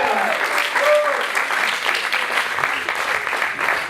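Applause from an audience after a short stage performance fills the whole clip, a dense, steady clapping with faint voices underneath.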